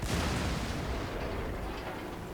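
Tank cannon fire in a video game, a loud close boom at the start that decays into a long rumbling, roaring tail, with no voices over it.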